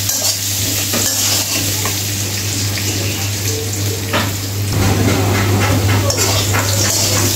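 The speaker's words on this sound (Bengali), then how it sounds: "আলুগুলোকে আমি নাড়াচাড়া করে লাল লাল করে ভেজে নেব।" Potatoes seasoned with salt and turmeric are stirred and fried in a pan, a loud steady sizzle with continuous scraping and stirring noises throughout.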